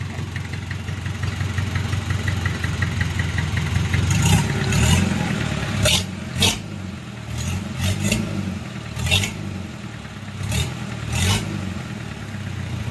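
A Mitsubishi 4D30 diesel engine being assembled with its timing gear runs at a rough idle and is revved in several short bursts, loud and close, with sharp metallic clacks between the revs.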